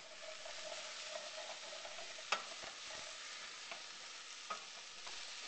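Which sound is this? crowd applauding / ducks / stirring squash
stirring squash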